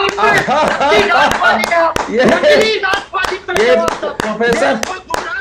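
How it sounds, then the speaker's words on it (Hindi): A voice carries over sharp, repeated hand claps during a heated Hindi television debate about the CAA, the claps rapid and uneven beneath the speech. "प्रोफेसर भुवन भास्कर जोशी आपके लिए तालियां बजा रहा हूं"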